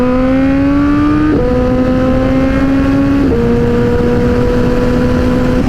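A motorcycle is ridden fast on a cornering ride in warm weather, with the rider pushing hard to heat the tyres. Its loud, steady engine drone rises in pitch, then drops twice at gear shifts over rushing wind noise.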